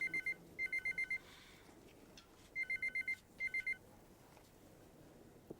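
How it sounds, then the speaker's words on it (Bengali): An old-style telephone bell rings indoors at home in bursts of rapid trills, two groups, a pause, then two more, loud and clear with no talk over it. "ফোনটা ধরো তো একটু।"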